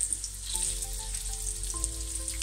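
Meatballs fry in a pan with a steady, close crackling sizzle and occasional pops, continuing evenly without any talk.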